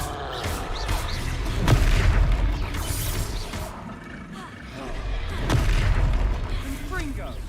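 A Confringo fire spell blasts in Hogwarts Legacy combat, two heavy booming explosions a few seconds apart that swell and fade over game background noise.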